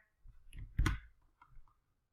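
Computer mouse clicking during a right-click and paste, a few soft close clicks with one sharper click in the middle, otherwise quiet.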